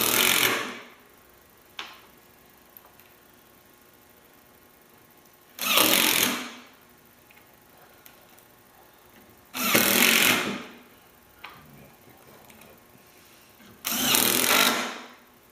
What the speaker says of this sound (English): I then place my faceplate over the center and then use my screws